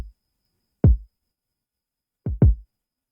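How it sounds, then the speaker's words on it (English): A deep, punchy kick drum sample for an Afrobeat in FL Studio hits three times alone, one single thump followed later by a quick double hit, with silence between. "we have a kick. So this is my kick."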